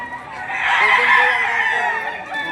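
Stag roosters crow at a livestock auction market in Padre Garcia, Batangas, one drawn-out crow ringing out nearby over a faint background of other fowl.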